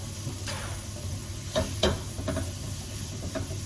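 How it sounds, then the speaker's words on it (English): Salted vegetables cook in a pan with a steady low sizzle and hiss, broken by a few soft scrapes and stirring clicks, close by with no talking. "Now you just want to cook these for a few minutes until they've softened up"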